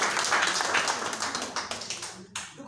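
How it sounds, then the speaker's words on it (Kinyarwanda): An audience at a Red Cross training session claps together, dense at first and then thinning to a few scattered last claps before stopping. "Niba ari byo turamuha amashyi."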